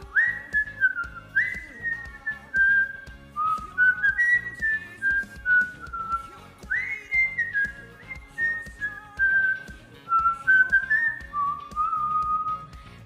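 A person whistles a wandering melody alone, in short phrases of sliding notes separated by brief breaths, close and clear.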